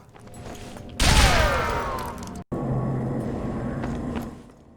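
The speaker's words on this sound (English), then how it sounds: "just shoot the mannequin, then the mannequin will drop the pickup" Gunfire in the Zombie Army Trilogy video game: a loud, sudden burst of shots at a mannequin with a sweeping, whining tail, a brief cut to silence, then continued heavy rumbling.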